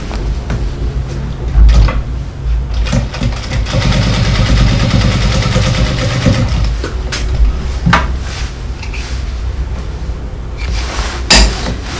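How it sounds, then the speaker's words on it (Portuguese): An electric sewing machine runs a seam across fabric scraps for a handmade phone case, a steady close mechanical whir with rapid stitching pulses swelling in the middle and brief clunks around it. "Eu vou passar uma costura aqui em cima"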